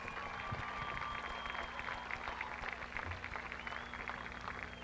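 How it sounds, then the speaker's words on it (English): Audience applause at Lorain County Speedway in LaGrange, Ohio, honoring the 2,000-point champion, a steady, moderately distant patter of clapping that holds evenly for about five seconds with no one speaking. "Give a big round of applause."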